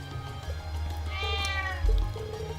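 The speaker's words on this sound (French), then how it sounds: "Ah, voilà un chat." A cat meows once in the video game Trails of Cold Steel, a clear, drawn-out mid-length call over a steady low background hum from the game.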